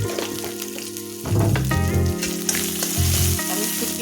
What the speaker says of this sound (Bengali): আমি শুটকিটা ভেজে নিব প্রথমে তেলে